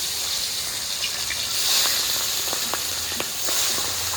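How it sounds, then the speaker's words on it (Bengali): Tengra fish frying in hot mustard oil in a kadai, a loud steady sizzle and hiss with small crackles and pops, close and continuous, no speech. "গরম হয়ে গেছে আমি এখন এক এক করে ট্যাংরা মাছগুলো দিয়ে দেবো"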